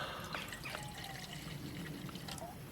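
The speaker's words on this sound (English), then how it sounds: "Let's add a little bit of water." Water trickles and pours steadily into a cooking pot sitting on a gas flame outdoors in the woods at night, a faint continuous splashing stream with no talking.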